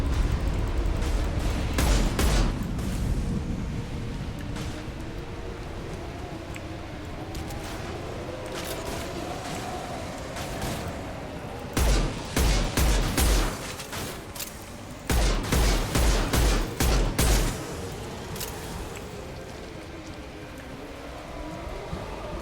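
Bursts of gunfire in a Mass Effect Legendary Edition combat fight, repeated volleys of rapid shots with sharp heavy impacts standing out near the middle and end, over a steady layer of battle noise.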